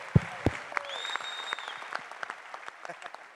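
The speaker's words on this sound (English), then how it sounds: "Little round of applause for our champ here." Audience applause for a UFC champion in an auditorium Q&A, scattered claps and crowd noise with a couple of sharp nearby hits and some background chatter.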